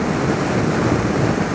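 Steady, heavy wind roar buffeting the microphone while riding a Honda CBR125 motorbike, a constant broadband rush with no voices.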